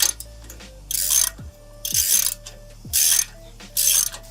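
A torque wrench clicks through four evenly spaced ratcheting bursts while tightening a suspension bolt on a 2023 Chevrolet Silverado ZR2, each burst ending in a sharp click, close and clear with no talking.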